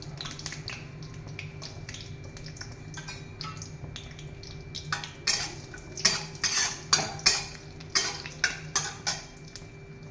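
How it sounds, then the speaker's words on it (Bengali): Cashew nuts fry in oil and ghee in a pan under a soft sizzle, while a metal spoon scrapes and clinks against the pan in a quick run of strokes that grows louder toward the end. "এবার আমি একটু কাজু বাদামটা ভেজে নেব।"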